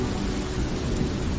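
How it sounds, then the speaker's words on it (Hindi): Thunder and rain beginning as a story sound effect, a dense continuous rumbling wash of noise, steady and fairly loud with no voices. "बादल छा गए और बारिश होने लगी"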